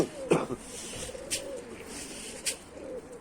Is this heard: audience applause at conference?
no